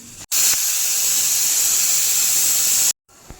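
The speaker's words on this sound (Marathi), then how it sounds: "चौथी शिट्टी होते आता चौथी होऊन देते आणि लगेच कुकर काढून घेते" A loud, sustained high-pitched hiss of steam blasting from a pressure cooker whistle while cooking chicken biryani, for nearly three seconds, cutting off abruptly.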